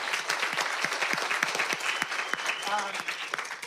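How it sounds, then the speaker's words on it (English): Conference audience applause, a dense steady wash of many hands clapping at moderate loudness throughout, with a voice talking over it. "So round of applause for Ian."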